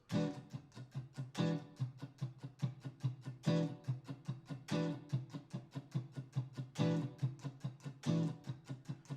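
An electric guitar plays a funky groove with string squeezes and many muted dead notes, giving a choppy, rhythmic stream of sharp percussive plucks and short pitched chords that repeat steadily at moderate, fairly quiet volume.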